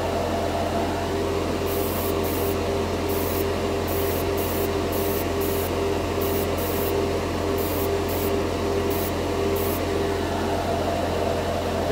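A MADWORKS dual-action airbrush sprays gold paint in a steady, continuous hiss that carries through the whole stretch, with a constant low hum beneath it and light intermittent high bursts.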